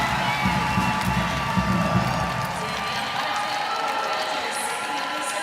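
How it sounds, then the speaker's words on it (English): Home crowd at a Nebraska–Wisconsin college volleyball match in Madison roars with cheering, shouts and scattered clapping, a loud swell that eases slightly toward the end. "Crowd coming to life."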